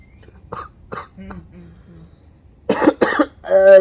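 A few soft throat sounds, then two sharp, close coughs in quick succession followed by a short voiced exhale, painful coughs from a person injured in a motorcycle accident.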